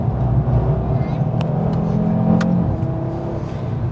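An Audi RS 3 accelerating hard, its engine droning loudly and steadily from inside the cabin with a rising whir, a few faint clicks and no talking.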